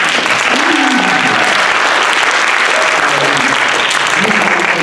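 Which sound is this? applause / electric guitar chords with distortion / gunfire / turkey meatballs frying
applause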